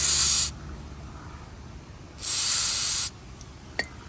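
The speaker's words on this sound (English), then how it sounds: "Let's spray it with some WD-40," WD-40 sprayed onto a rusted deflector of a Toro TimeCutter riding mower: two loud aerosol hisses, a half-second burst then a longer one of nearly a second, with a faint click near the end.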